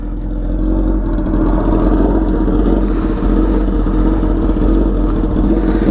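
Engine running with a straight pipe after the slip-on exhaust was removed, a loud, close, continuous raw rumble holding steady throughout with slight surges in revs.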